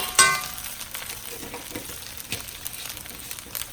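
Crab fried rice with generous pre-fried garlic sizzles steadily in a hot pan, a soft continuous crackle with a few brief stirring scrapes and clinks, close and moderately quiet.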